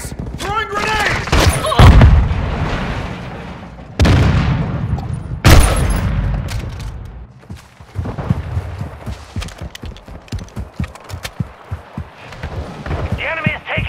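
Grenade blasts and rapid gunfire from the game Call of Duty Modern Warfare 2, with loud booms near 1.5, 4 and 5.5 seconds followed by dense stretches of sharp shots, while game voices call out over the combat.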